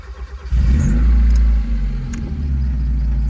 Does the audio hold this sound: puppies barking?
no